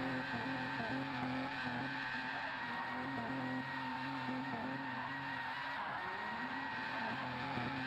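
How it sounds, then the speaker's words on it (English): Race car on Michelin soft tires squeals continuously in a racing game prototype qualifying session, a sustained high tire screech layered over a droning engine tone with no pauses. "Gotta burn off a set of them Michelin soft tires."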